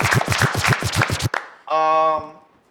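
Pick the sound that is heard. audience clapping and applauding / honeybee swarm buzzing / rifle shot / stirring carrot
audience clapping and applauding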